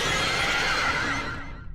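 A tethered horse screams in terror, a loud, harsh, sustained whinny that fades out after nearly two seconds, heard alone with no talk.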